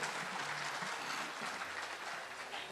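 Dense, steady audience applause at a live music show, a brief continuous burst of clapping.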